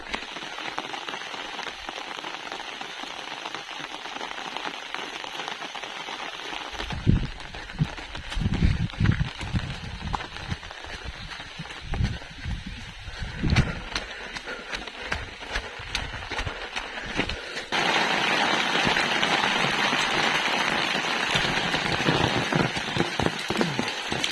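Heavy rain pours down and floods a courtyard at a hill home in the Pahadi region: a dense, steady hiss that swells louder toward the end, with a run of nearer splashing footsteps in the middle.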